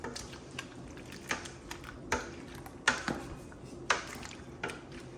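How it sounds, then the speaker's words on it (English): Tomatoes simmering in plenty of liquid in a pot are stirred, giving a series of soft wet squelches and light clinks of the spoon against the pot, spaced irregularly and fairly quiet. "I'm gonna give it a good stir."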